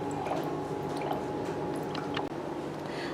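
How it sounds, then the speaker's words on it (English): Water spilling out of an overflow hole once the reservoir inside is full, a close, steady wet trickle with soft irregular drips and squishy gurgles throughout. "When the water is full inside, it will come out from the overflow hole."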